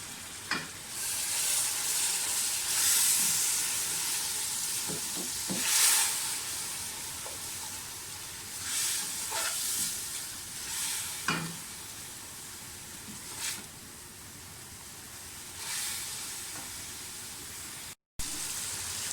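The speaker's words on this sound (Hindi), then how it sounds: "जो हमने टमाटर ग्राइंड किए हैं थोड़े से डालें ताकि मसाला ना जले हमारा, और थोड़ी सी भुनाई कर लें" Masala with ground tomatoes frying in a pan for a green bean curry, a continuous sizzle with repeated scraping strokes of a spoon stirring, close and fairly loud.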